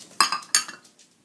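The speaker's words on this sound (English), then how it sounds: "we are going to use our pastry blender to cut in the shortening" A metal pastry blender cuts lard into a bowl of flour and salt, giving a few sharp clinking scrapes of metal against the bowl, close and quick, fading out at the end.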